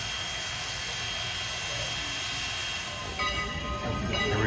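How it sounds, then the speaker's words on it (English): A Strasburg Railroad steam locomotive backing onto its train rumbles and hisses steadily close by, a broad continuous mechanical roar that swells slightly toward the end. "Here he comes, backing on his train."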